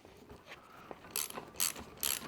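A ratchet wrench tightens a bolt on the strut of a 2006–2010 Kia Optima, giving three quick bursts of close, crisp clicking after a quiet start.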